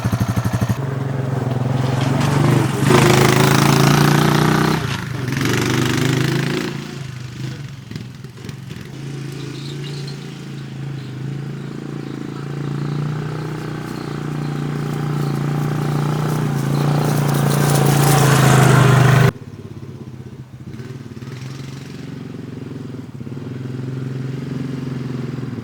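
A quad ATV, abandoned for five years and newly repaired, idles steadily as it warms up, a continuous low engine drone with slight revving swells; the sound drops abruptly near the end and then carries on more quietly.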